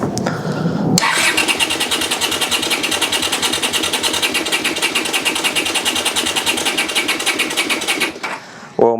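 Starter cranks an old barn-find Honda motorbike unused for 25 years, a loud, rapid, steady churning that runs for about seven seconds without catching, then stops abruptly.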